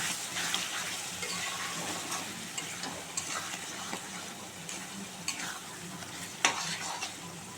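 Spice paste for a young jackfruit and prawn dish sizzles steadily in a pan while a spoon scrapes and stirs it, with sharp clicks now and then, close and continuous throughout.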